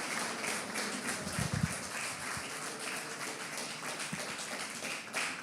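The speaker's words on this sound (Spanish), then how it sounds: "Dele un aplauso a Dios por eso, ¿vale?" Church congregation applauding during a Spanish-language sermon, a faint, distant patter of many hands with a few sharper claps, steady for several seconds in a reverberant hall.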